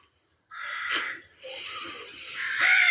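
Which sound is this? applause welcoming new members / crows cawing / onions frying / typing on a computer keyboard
crows cawing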